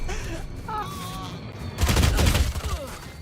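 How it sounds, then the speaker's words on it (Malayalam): A burst of rapid gunfire from the shooter game Valorant follows a stretch of game sounds and breaks out loud and dense partway through before tailing off, with a voice talking over it. "ഞാൻ വെടിവെക്കാം."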